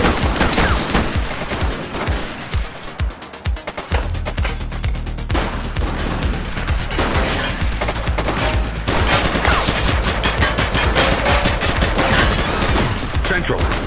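Gunfire in the police game The Precinct, rapid volleys and automatic bursts that run almost continuously, loud and close, with other action sounds mixed in.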